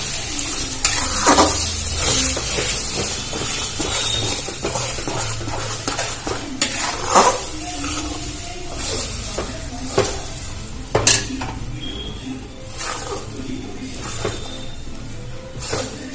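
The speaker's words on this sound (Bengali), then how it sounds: "এটা আবার নাড়াচাড়া করে ভেজে নেব।" Chickpea paste fries in a pan on low heat while being stirred, with a continuous sizzle broken by repeated scraping and clinking of a spatula against the pan, close and fairly loud.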